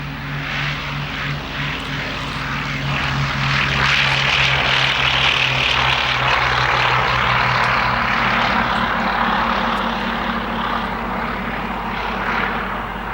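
Twin engines of a Bristol Blenheim propeller aircraft droning steadily with a low, pulsing hum, loud and close, holding for the whole stretch with no voices, at an air show.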